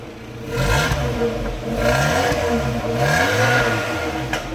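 A Citroën Xsara track car engine revs repeatedly through a decatted exhaust, rising and falling with a deep, throaty exhaust rumble, loud and close, with no one speaking.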